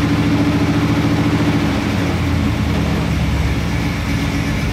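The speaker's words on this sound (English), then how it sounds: "Idle, you can expect it to be a little bit bumpy, but see, it smooths out" A car engine fitted with a Carter AFB carburetor idles steadily and close by, a continuous low rumble with a slightly bumpy rhythm and no speech.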